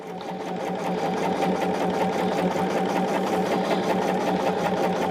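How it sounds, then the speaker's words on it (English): A sewing machine runs steadily, stitching a quarter-inch seam on a woodland quilt, with a rapid even needle rhythm and motor hum heard up close without pause. "I am sewing to just the right side"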